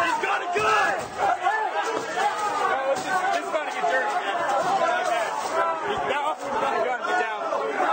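An angry crowd of protesters at the US Capitol roars and shouts in dense, overlapping voices, a loud continuous wall of agitated yelling close by.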